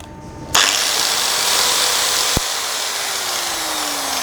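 An angle grinder runs continuously against a stainless steel sheet (SS 202 or SS 304), a loud, steady high-pitched whine and hiss that starts abruptly after a brief quieter moment and holds, close to the microphone.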